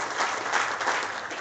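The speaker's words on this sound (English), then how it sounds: "that deserves another round of applause" Audience applause at an Indian powerboat Grand Prix event, a steady dense wash of many hands clapping at moderate distance, continuous and even throughout with no voices standing out.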